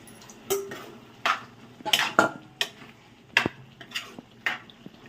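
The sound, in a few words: adding water to mutton kheema curry in pot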